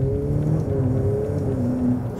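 A Ferrari F8 Tributo engine hums at a steady, moderately loud drone from inside the car, with smooth rising tones as it pulls.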